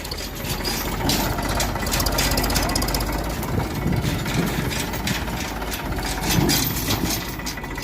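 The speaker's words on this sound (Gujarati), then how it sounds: "અમારે એમજી કાકો આવી ગયા ટ્રેક્ટર લઈને" A tractor engine runs at farm threshing work with a steady, loud, knocking rumble throughout. Voices talk over it.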